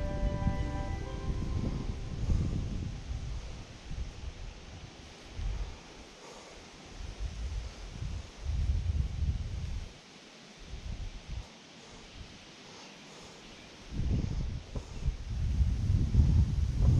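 Wind blows on a hot, humid day while fishing outdoors, buffeting the microphone in loud rumbling gusts that rise and fall, with quieter lulls in between and no talking.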